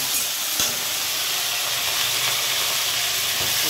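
Ivy gourd (kundri) fries in a hot wok with a steady, loud, close sizzle and hiss that runs unbroken throughout, with no voices.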